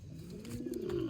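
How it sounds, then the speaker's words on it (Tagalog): Pigeons in a loft cooing, a soft low throaty coo rising toward the end, close by over a quiet background, with no talking. "May mga natira pa rin dito. Pero talagang mga ibon na tamad ano."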